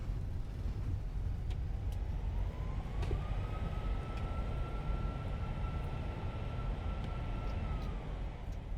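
Thrust reversers on a Fenix A320 in a flight simulator, just after touchdown, give a loud, steady engine roar, with a long whining tone that rises and then holds, and no voices.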